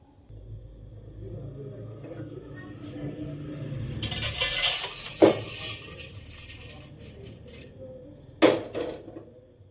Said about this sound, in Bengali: সবজি দিয়ে ভাজা মুড়িগুলো এখন ঢেলে নিচ্ছি অন্য আর এক পাত্রে।